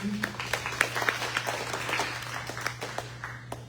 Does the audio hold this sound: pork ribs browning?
no